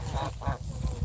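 A pet hybrid goose honks repeatedly in short loud bursts at close range, several calls in quick succession.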